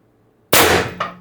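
An X-68 Punisher HPA launcher with a 685 stainless steel barrel fires one 9.9 g riot ball: a single sharp, loud blast after near silence, tailing off quickly, with a brief secondary clack just after.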